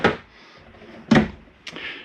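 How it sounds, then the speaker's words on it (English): Cabinet doors and drawers being shut inside a MesaRidge RV trailer: three separate close-up thuds and clicks, the first and second the loudest, with quiet pauses between. "Make sure that all doors and drawers are closed."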